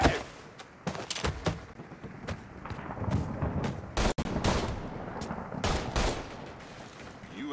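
Gunfire in the video game Mafia III, with repeated sharp shots and short bursts scattered through a shootout, fairly loud with brief pauses between volleys.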